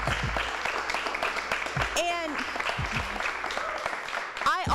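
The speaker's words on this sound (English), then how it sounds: "clap for her" Audience applause rises for a student who just shared words of encouragement at a teachers-and-parents gathering, steady clapping under a clear voice that speaks over it throughout.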